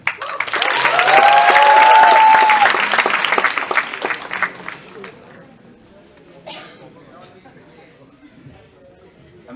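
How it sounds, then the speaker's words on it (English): A comedy club crowd in Ahmedabad bursts into loud applause and cheering as a local comedian takes the stage, swelling over the first few seconds, then fading to scattered claps and murmurs. "Please, let's have a huge round of applause for Brandon."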